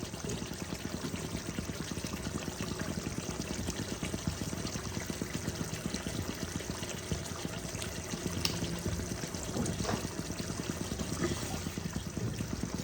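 Amul full cream is poured into a chhena curry. The liquid makes a steady, continuous pour and trickle that stays fairly loud for the whole stretch without pause, and no one talks.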